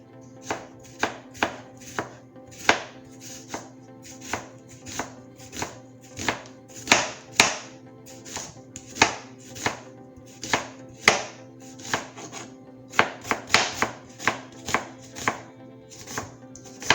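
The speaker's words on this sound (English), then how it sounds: "I'm gonna go ahead and julienne some white onion" A kitchen knife julienning white onion on a cutting board makes a long run of crisp, close taps. They come at an uneven, brisk pace, some strokes louder than others, with no talking.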